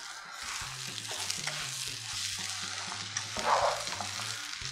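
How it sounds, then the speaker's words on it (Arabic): Rice stirred in a pan with onion, frying steadily with a continuous sizzle and scraping stir strokes, with a low rhythmic hum beneath; no talking. "بعد كده نقلب برضو الرز كده"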